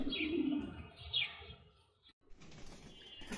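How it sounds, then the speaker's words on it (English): Several iceberg-colored Damascene pigeons, a fancy tumbling breed, give soft low coos and chirps, close by, with a short rustle and a brief pause partway through. "Now you are watching a group of iceberg color Damascen Pigeon"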